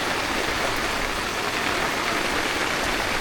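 Heavy rain pours steadily at a campsite during a flash flood, a loud, dense, unbroken hiss of drops striking surfaces nearby.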